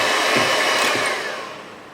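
Electric mixer beating whipping cream with sugar and vanilla essence, a loud steady whir, close up, that fades slightly toward the end of the short burst.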